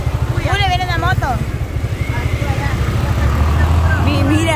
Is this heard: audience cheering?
no